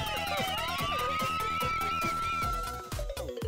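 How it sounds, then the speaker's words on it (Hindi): An ambulance siren wails with a rising, sweeping tone over a busy rhythmic music bed, and the pitch holds high before it fades near the end. "एम्बुलेंस बुलाओ जल्दी"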